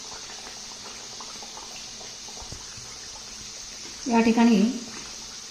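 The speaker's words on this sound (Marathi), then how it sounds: "आपल्या कचोऱ्या या ठिकाणी तेलात मस्त अशा टम फुगायला लागलेल्या आहेत" Pea kachoris deep-frying in hot oil give a steady bubbling sizzle throughout, under a short spoken phrase near the end.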